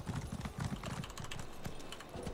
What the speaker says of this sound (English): They need to fix that detection while you're on your horse.